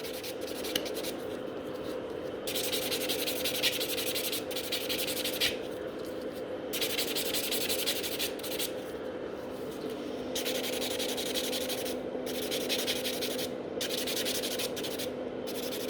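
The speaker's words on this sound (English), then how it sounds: "with this buffer I can buff quite fast" Fiber gel nails over natural nails being buffed with a nail buffer: fast, steady rubbing strokes in close, continuous bursts with brief pauses between passes, no talking.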